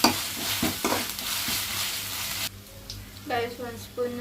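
Ginger and garlic frying in a pan for a mutton gravy, with loud stirring scrapes and sizzling early on, then quieter frying with occasional utensil clinks toward the end.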